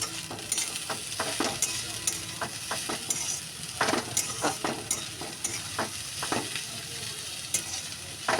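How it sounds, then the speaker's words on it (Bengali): Prawns sizzle in oil in a pan while a spoon stirs them, with steady frying crackle and soft scraping strokes recurring every second or so, close and moderately loud, with no voices. "তো চিংড়ি মাছটা তার মধ্যে দিয়ে আমি ভালো করে আরেকবার নাড়িয়ে নিচ্ছি"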